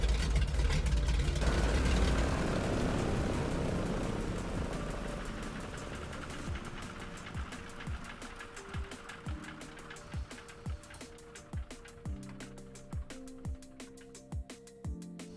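Small general aviation aircraft engines idling on a flight from Key West to West Palm Beach, a steady low rumble that fades as a regular thumping beat emerges, moderately quiet throughout.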